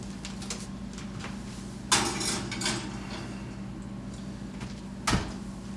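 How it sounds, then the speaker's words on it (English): An oven door and pans clunk as a tray of pork tenderloin goes into the oven. Two distinct knocks stand out, one near the start and one near the end, over a quiet kitchen background. "And pop those into the oven."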